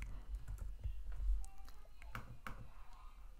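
Quick bursts of key clicks as a short word is typed on a computer keyboard, close and fairly quiet over a faint low hum, with no talking.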